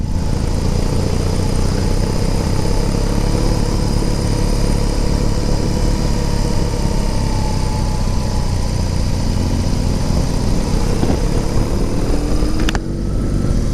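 A BMW R18 motorcycle climbs a steep mountain road in Costa Rica in first gear, its engine droning loud and steady throughout with a low, constant rumble and wind noise.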